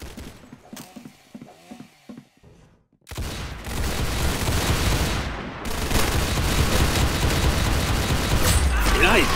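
Gunfire in the video game Arsenal: rapid mechanical clicks at first, then after a brief silence a dense, loud stretch of shooting and weapon noise continues to the end.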